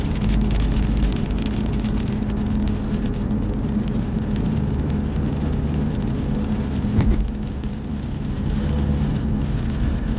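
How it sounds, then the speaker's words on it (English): Steady, dense rain falls loudly outdoors, a continuous broadband wash that holds for the whole stretch with no voices over it. "Now the rain's coming back."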